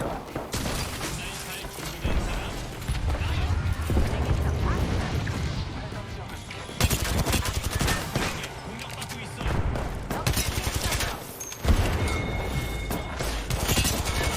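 Rapid gunfire in the video game Apex Legends, dense bursts and sustained volleys of shots in a firefight with loud crashes, while players talk excitedly over the action.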